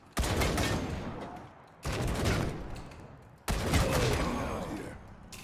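Turret fire in the Wasteland 3 combat game comes in three loud, dense bursts of rapid shots, each cutting in abruptly and trailing off before the next.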